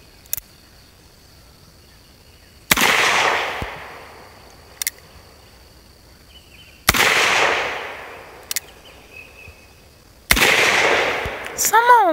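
Three loud, close gunshots from an Uberti 1873 .45 Colt revolver, spaced about four seconds apart, each followed by a long echoing decay, with faint clicks between shots.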